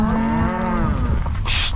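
A cow gives one long, loud, drawn-out moo during a ranch cattle drive through a canyon, close by, followed by a brief rustle.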